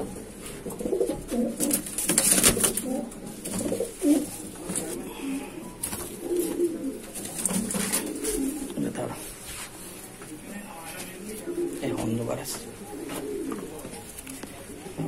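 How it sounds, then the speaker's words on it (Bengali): Madrasi pigeons coo in a loft in Shyamnagar, soft low throaty calls repeating close by, with someone talking over them and a few sharp scratchy sounds between. "আরেকটা নোট দেখাচ্ছি, এটা মাদা পায়রা"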